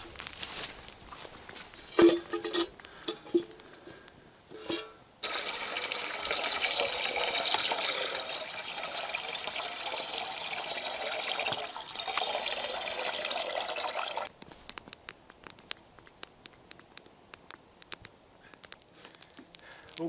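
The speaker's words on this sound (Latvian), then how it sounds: "Ugunskurs kurās, ūdens vārās" A 2.5-litre pot of water simmers and bubbles over a crackling campfire outdoors, a steady close hiss of boiling and fire with brief knocks and clatters at the start and end.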